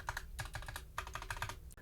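Close, crisp typing on a Glorious TKL keyboard fitted with Gateron Milky Yellow Pro switches and Durock stabilizers, rapid clustered clacks in bursts with short pauses, no voices.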